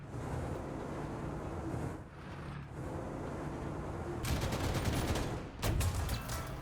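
Sustained gunfire rattles against a T-62M-1 tank in a video game, with dense bursts over a constant rumbling engine bed and sharper volleys near the end, no speech.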